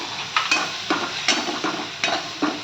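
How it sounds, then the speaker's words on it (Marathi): Pav bhaji vegetables with pav bhaji masala are sautéed in a pan, giving a soft sizzle under rhythmic scraping strokes of a spoon, about five or six close strokes with no talking. "त्यामध्ये आपल्याला आता पावभाजी मसाला घालून घ्यायचा आहे आणि त्याला पुन्हा एकदा परतून"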